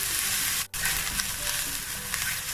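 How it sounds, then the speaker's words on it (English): Steady, close sizzling of onion frying in a hot pan, with a soft crackle throughout and one brief dip in the sound. "So this is 2 minutes of frying the onion."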